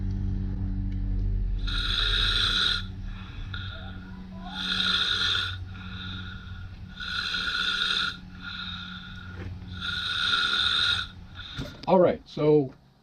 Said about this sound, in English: And then snoring.